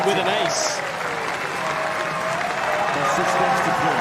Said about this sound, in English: he wants to hear a bit more from this Stadium 17 crowd